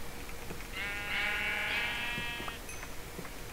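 A sheep in Minecraft lets out one drawn-out, wavering bleat lasting nearly two seconds, moderately close over faint background clicks and game noise.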